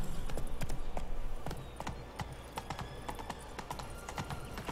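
Horse hooves clip-clopping in The Witcher 3: Wild Hunt, a steady rhythmic trot that is louder at first and then continues more softly, with no talk over it.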